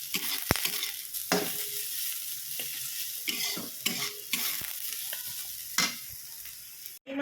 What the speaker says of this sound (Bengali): এখানে দেখো পেঁয়াজ দিয়ে বিট ভাজছি